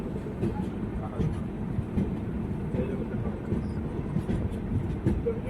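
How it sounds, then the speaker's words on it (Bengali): Freight train of oil tanker wagons passing at speed, a steady loud low rumble and rattle running continuously throughout without a break. "তেলের ট্যাঙ্কার আমাদের ট্রেন স্পিডে ধরে রয়েছে, স্পিড ধরে রয়েছে"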